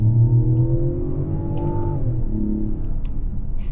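Mazda CX-70 with the 3.3L turbocharged six-cylinder accelerating hard at full throttle in Sport mode, a loud, steady engine drone that climbs in pitch through the gear, close and sustained with no talk over it.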